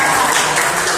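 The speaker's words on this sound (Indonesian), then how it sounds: "Tepuk tangan untuk Dina." A classroom full of students applauding, a dense burst of many hands clapping together, loud and close.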